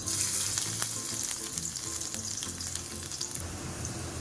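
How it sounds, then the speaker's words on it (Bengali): Chopped garlic sizzles in hot white oil in a pan, a steady bright crackling hiss holding the same strong level throughout with scattered pops and no voices. "এখানে আমি একটু সাদা তেল দিলাম, দিয়ে এর মধ্যে দিয়ে দেবো কুচনো রসুন"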